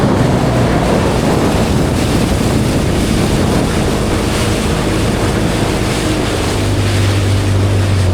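A dragon ride boat carrying eight people speeds over the sea at Ganpatipule, with a loud continuous roar of engine, rushing water and wind buffeting the microphone.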